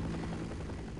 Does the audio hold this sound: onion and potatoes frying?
no